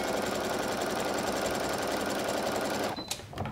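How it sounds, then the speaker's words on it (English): A sewing machine runs steadily as it stitches a zipper onto fabric, a dense continuous whir that stops abruptly near the end, followed by a few brief clicks and rustles. "Attach the zipper to the fabric and then we'll sew it on."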